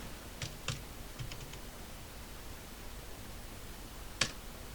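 Typing on a computer keyboard for a Microsoft Word document comes as a few sparse, quiet key clicks spread across a steady background hiss, with one sharper tap near the end and no speech.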